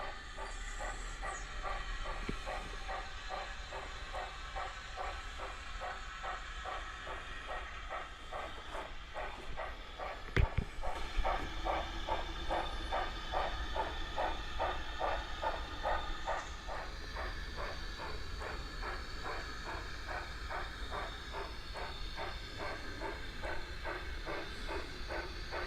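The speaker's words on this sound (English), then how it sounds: "Right, this is the first train to run on the main layout." A model train runs on the main line of a model railway layout at what will be platform 1, giving a steady rolling hiss with fast clickety-clack rail beats throughout, fairly close and continuous, with one brief knock near the middle.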